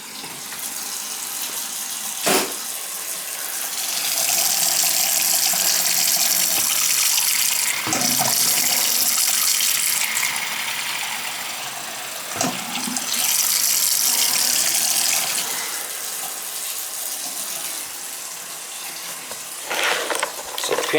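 Water runs steadily from a tap during a household plumbing leak check, a loud continuous splashing rush that swells and eases, broken by a few brief knocks and clunks.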